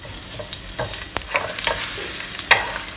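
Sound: thinly sliced young ginger frying in hot oil

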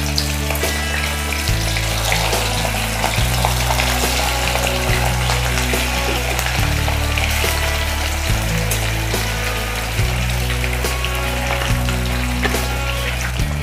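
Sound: fish frying in hot mustard oil

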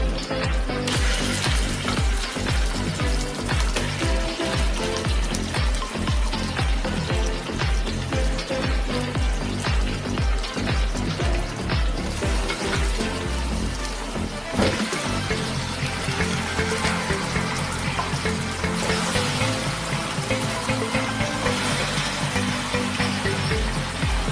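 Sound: chicken being stirred and cooked in a pan

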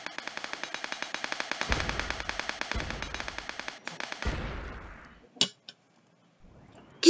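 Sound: weapon gunfire in the video game Wings.io

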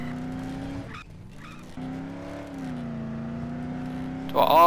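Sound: car driving around in video game Dead Island

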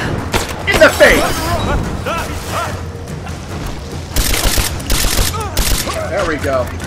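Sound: gunfire in the video game Rise of the Tomb Raider

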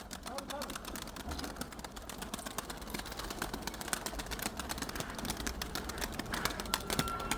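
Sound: pigeons cooing and flapping

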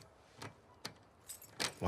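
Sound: keys jangling in the video game The Last of Us 2

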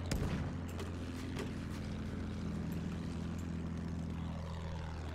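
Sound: propeller plane flying in Battlefield 1 video game

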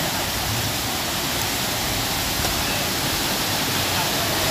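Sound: waterfall in Goa

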